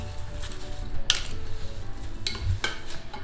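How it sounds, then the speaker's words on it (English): A spoon stirs lemon juice and sugar into apple raspberry pie filling in a bowl, giving a few quick scraping clinks against the dish over a low steady background. "I'm just going to give that a quick stir just to incorporate"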